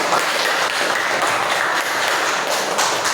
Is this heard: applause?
yes